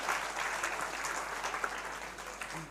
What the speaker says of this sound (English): Let's give another clap for them for their demonstrations.